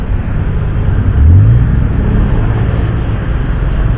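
A motorcycle engine runs nearby in a steady, loud low rumble with wind buffeting, swelling briefly in a quick rev before settling back to an even drone.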